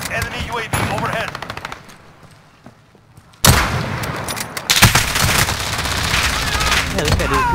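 Gunfire in the video game Call of Duty Modern Warfare, dense rapid automatic bursts and heavy shots that stop for a moment, then resume loudly, with players talking over the fighting.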